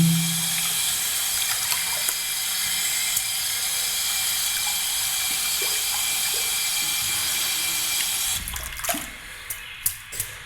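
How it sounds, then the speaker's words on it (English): A water tap runs steadily into a sink while a synthetic shaving brush is rinsed under it, a close, even hiss. It ends in a few soft knocks and clicks as the flow stops. "An interesting note on rinsing the synthetic brush."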